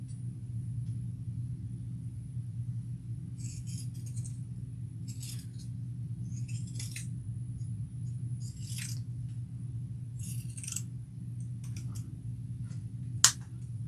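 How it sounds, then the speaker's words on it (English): Pinking shears trim fabric to cut seam bulk in a series of about six crisp, evenly spaced snips, close and distinct over a constant low hum. "I'm going to use these pinking shears to help relieve some of the bulk"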